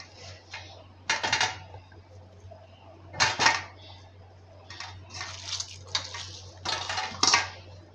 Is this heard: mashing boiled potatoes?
yes